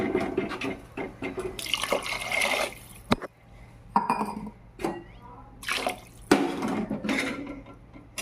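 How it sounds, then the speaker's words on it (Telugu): Three glasses of water are poured into a cooking pot for gongura rice, splashing and gurgling in uneven bursts up close, with short pauses between pours. "3 గ్లాసులు వాటర్ పోసుకుంటున్నాను"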